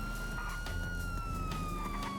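Police car siren in GTA 5 wailing steadily and continuously, loud and close throughout over a low engine rumble, with no talking.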